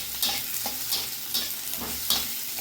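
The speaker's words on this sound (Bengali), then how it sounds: "তারপর দিয়ে দেবো পেঁয়াজ কুচি" Chopped onion sizzles and crackles in hot oil with cinnamon, a steady fry broken by several scraping stirs of a spatula in the pan, close and fairly quiet.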